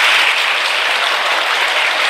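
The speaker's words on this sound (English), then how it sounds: "You can do wonders just with clapping." Sustained, dense applause from a lecture-hall audience at a talk on positive thinking, steady and loud from start to finish with no voices over it.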